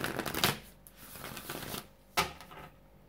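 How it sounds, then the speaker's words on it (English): A deck of cards shuffled during a daily guidance card reading, with papery riffling bursts that peak sharply near the start and again later, between quieter rustling, close and moderately loud, with no talking. "I'm gonna be shuffling off camera"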